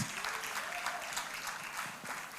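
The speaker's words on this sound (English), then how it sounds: "give them a round of applause" Audience applause at a real estate customer experience event, a dense, steady burst of many hands clapping in a hall, loud and continuous throughout the short stretch.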